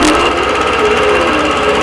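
A quilting machine stitches a spindle design on a brightly colored applique quilt, a loud, steady, rapid mechanical chatter running without pause and with no talk.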